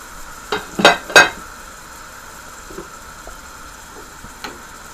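Chicken breast fries skin side down in a pan before going into the oven for a cheese bake, a steady soft sizzle with a few brief clinks and taps near the start.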